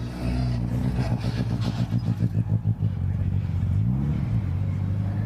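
MG Cup and MG Metro Cup race cars pass on a circuit, a steady engine rumble with a rapid pulsing throb as one goes by, followed by a rising-then-falling whine of another car.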